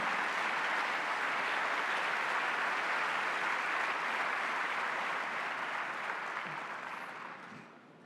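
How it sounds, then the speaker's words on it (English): A large audience at a closing ceremony gives sustained applause for a group of kids, a broad steady roar of clapping that fades away toward the end. "So a big round of applause to those kids who took the risk to meet"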